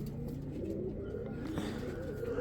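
Rare Sina pigeons coo in low, repeated throaty calls, close and steady throughout, with faint background rustle and no speech.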